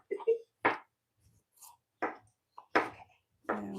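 A kitchen knife chops vegetables during a plant-based cooking demo: a handful of sharp, separate strokes spaced about a second apart, close and fairly loud, with faint voice-like sounds between the strokes.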